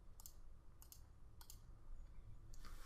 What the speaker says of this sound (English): Type it in the calculator.